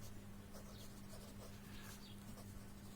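Marker or chalk scratching across a classroom board during an anatomy lesson, steady faint strokes over a constant electrical hum with room noise.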